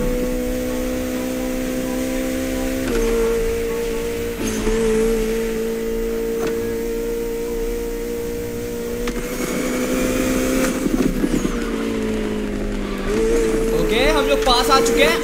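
A Koenigsegg Jesko races in The Crew Motorfest, its engine a loud, continuous whine that steps down at each gear change and climbs again, with brief tire squeal near the end.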